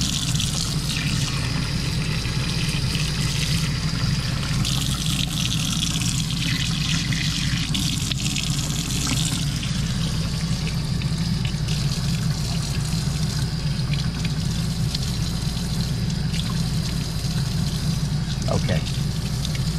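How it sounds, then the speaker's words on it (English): Water runs steadily out of an RV's fresh water tank, a constant close rushing flow that continues unbroken throughout. "I now have the water coming directly out of the fresh water tank."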